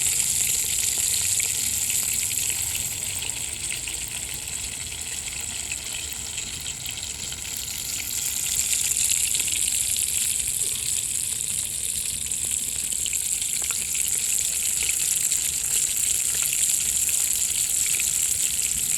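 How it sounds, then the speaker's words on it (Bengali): Chicken wings deep frying in oil make a steady, dense bubbling hiss up close, holding loud and even with a slight swell partway through and no voices. "উইংস কিন্তু আমার ভাজা হয়ে এসেছে"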